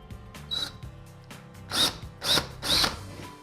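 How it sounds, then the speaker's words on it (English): A power drill with a 1/4-inch bit bores into an interior wall in three short, loud whirring bursts, preceded by brief softer starts and clicks. "I'm using a 1/4" drill bit."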